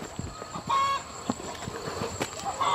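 Local breed chickens on a farm cluck continuously at close range, overlapping calls from several birds with occasional louder squawks and a steady background hum.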